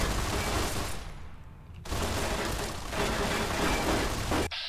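Dense gunfire and explosive blasts in the video game Fallout: New Vegas, a loud, noisy wall of combat sound with a brief dip partway through before the din returns and cuts off sharply.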